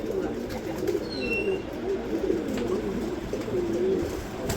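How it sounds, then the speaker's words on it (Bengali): Male almond-coloured pigeon cooing steadily over several seconds, low repeated rolling coos close by, with faint background chirps and ambient noise. "আমি একটু যদি আপনাদেরকে ডাকটা শোনানোর চেষ্টা করি, তাহলে বুঝতে পারবেন এর ডাক হে কি।"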